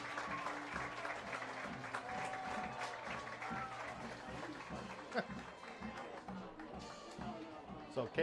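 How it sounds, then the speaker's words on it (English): Crowd applause in a high school football stadium after the homecoming king and queen are crowned, faint distant clapping and cheering spread across the stands beneath an announcer's voice and some music. "Let's give them all one final round of applause"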